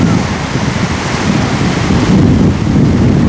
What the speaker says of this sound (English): I think it's too windy.